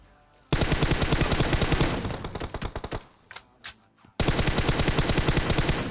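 Automatic gunfire in PUBG Mobile, with loud sustained bursts broken by a short gap of single shots and quieter pops, then another long bright burst.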